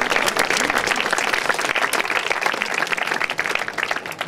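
Applause from an audience at a sports awards evening for a judoka, fairly loud and fluctuating, a crowd clapping steadily for a few seconds with no speech.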